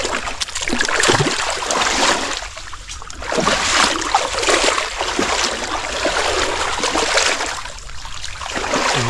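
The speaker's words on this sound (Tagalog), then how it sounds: "Ayan, umahagos yung tubig." Water rushes and gurgles as it flows back in after cleaning, a loud steady churning stream with surging swells, close and continuous with no talk.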